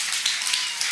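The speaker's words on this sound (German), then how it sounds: "Ein Applaus für den Joni, der ist aber mutig" Short burst of audience clapping for a child at a church school-enrollment service, a quick patter of many hands heard from a distance.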